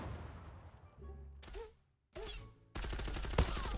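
Bursts of gunfire from the competitive online shooter Zula, sharp rapid shots in short volleys separated by brief silences, ending in a louder sustained burst.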